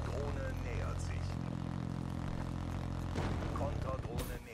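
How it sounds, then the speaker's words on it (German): Enemy drone approaching in the video game Black Ops 3, a steady droning engine hum with propeller-like tone holding throughout, loud and continuous with game sounds layered over it and voices in the mix. "Drohne nähert sich."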